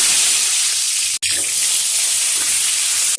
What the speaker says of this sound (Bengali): এবারে বেগুনগুলোকে আমি কিন্তু হালকা ভেজে নিচ্ছি